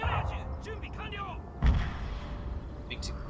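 Field cannon artillery firing in the samurai-era strategy game Total War: Fall of the Samurai, a single heavy boom midway, with game voices talking beforehand and battle ambience throughout.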